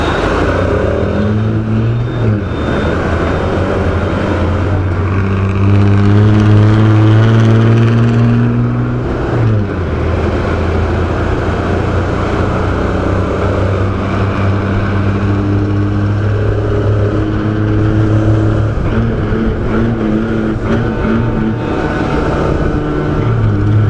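A motorbike with a clip-on tank idles and revs in traffic, its engine droning loudly and steadily for the whole stretch, with pitch rising and dipping as the throttle changes.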